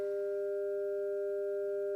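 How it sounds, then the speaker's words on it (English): A 400 hertz sine-wave test tone plays through playback whose reproduction is becoming slightly problematic. It is a steady, even pure tone with faint added overtones, lasting about two seconds with nothing else heard. "the reproduction of the 400 hertz sine wave is starting to be a little problematic"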